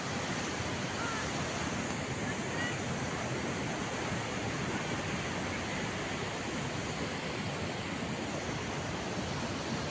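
Sea waves wash continuously onto Revdanda beach on the Konkan coast at sunset, a steady, dense roar of surf with wind, fairly distant and unbroken throughout.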